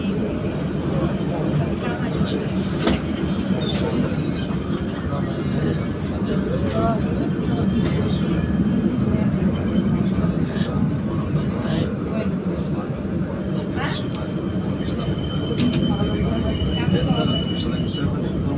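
A train rides from Jaffa toward Damascus Gate, a steady loud interior rumble and rattle of the rail car with occasional clicks, continuous throughout and overlaid by faint muffled announcements.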